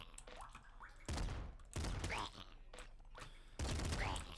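Gun shots in the top-down shooter Nuclear Throne, several loud separated bursts with short gaps between them, laid over a busy backdrop of smaller game effects.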